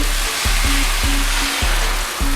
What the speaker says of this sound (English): Add a little water to get it nice and steamy.